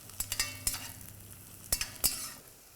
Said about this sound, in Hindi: काली मिर्च, बड़ी इलायची, थोड़ा सा ऑयल में इसको भी भून लिया।